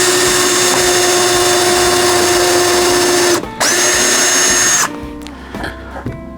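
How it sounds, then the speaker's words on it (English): A power drill drives into wood while building railroad layout tables, a loud close whine that runs steadily, cuts out briefly, spins up again, then stops, leaving a few faint clatters of handling at the end. "I'm going to drill."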